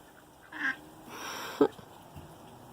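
Ducks on a farm pond give a couple of faint, distant quacks over quiet outdoor background, with one brief louder knock near the end.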